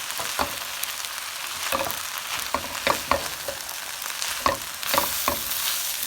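Shrimp fried rice with onions cooking in a pan: a continuous close sizzle broken by sharp stirring and scraping clacks at irregular intervals, with no talk.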